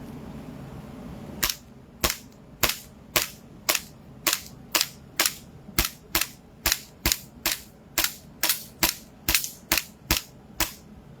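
Sharp, snappy shots from a 1911-style airsoft pistol ring out one after another, about twenty in a fairly even rhythm, each followed by a short mechanical clack.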